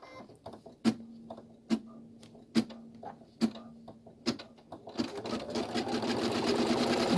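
A sewing machine stitches a splash bag in short spaced bursts with clicks between them, then runs in a longer continuous whir, close and clear with no talking.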